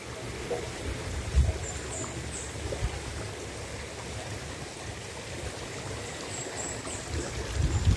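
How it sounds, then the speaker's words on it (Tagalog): A river running past a resort in Batangas: steady broadband rushing water, moderately loud and even, with faint bird chirps high above and a few low thumps. "Ito yung mismong ilog."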